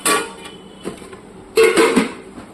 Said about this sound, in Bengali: ঢাকনা সরিয়ে একবার দেখে নিচ্ছি।